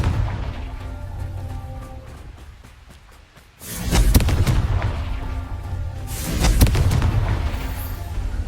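Confringo spell blasts in the Hogwarts Legacy video game, two loud explosive booming bursts a few seconds apart over a rumbling battle background, with no talking.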